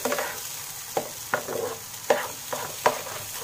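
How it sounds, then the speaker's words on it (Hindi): Spiced pea stuffing for kachori stirred in a frying pan, a close spatula scraping and stirring in repeated strokes over a soft, steady sizzle, with no talking. "लगातार चलाते रहेंगे बिल्कुल ड्राई करना है हमें इसे"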